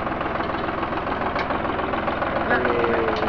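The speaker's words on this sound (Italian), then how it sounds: "L'uomo che vedete sul trattore è il maestro Bonet" A tractor engine idles on a farm with a steady, rough, knocking chug that holds an even level for the whole stretch, close and continuous.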